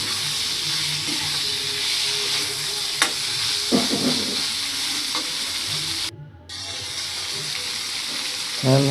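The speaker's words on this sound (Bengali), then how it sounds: "কাঁচামরিচ, এগুলো ভেজে নিতে হবে, সবগুলো ভেজে নিতে হবে।" Green chilies fry with chopped tomato in hot oil, a steady close sizzle running throughout with occasional stirring scrapes and a brief dip partway before the hiss resumes.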